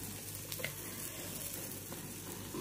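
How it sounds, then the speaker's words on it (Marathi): Rice roasts in a hot pan with oil for capsicum masala rice, giving a soft, steady sizzle with faint stirring scrapes close by. No voices are present. "तांदूळ पण 1-2 मिनिटं भाजून घ्यायचे।"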